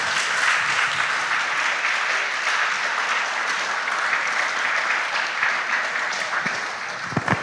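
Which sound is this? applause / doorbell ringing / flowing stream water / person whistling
applause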